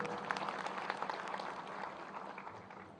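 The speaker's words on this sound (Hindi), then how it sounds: "इनके लिए भी एक बार तालियां बजाइए।" An audience claps for farmers at a public gathering addressed by a Union minister, a dense broadband wash of applause holding steady and tapering slightly toward the end.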